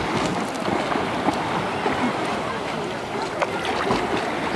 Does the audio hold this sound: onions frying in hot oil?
no